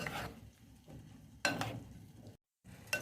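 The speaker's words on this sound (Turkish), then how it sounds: "arpacık soğanlarımızı da koyup etimize tekrar harmanlayacağız ve bir süre daha kavuracağız" Meat and shallots sauté in a pan for a papaz yahnisi stew, soft sizzling broken by a couple of louder stirring scrapes and a brief silent gap.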